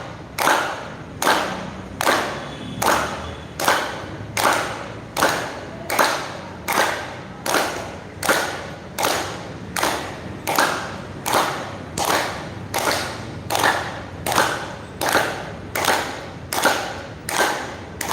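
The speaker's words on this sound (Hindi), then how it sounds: "ताली बजाने आपने अनुभव किया होगा" A group claps hands in steady unison during a yoga exercise session, sharp loud claps repeating about once a second for the whole stretch, close and without talk.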